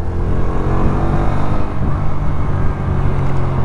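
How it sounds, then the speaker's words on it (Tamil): A car drives by with a loud, rumbling exhaust note, a steady engine drone holding close and strong throughout with no talking. "அந்த எக்ஸாஸ்ட் நோட் தாறுமாறாக இருக்குது"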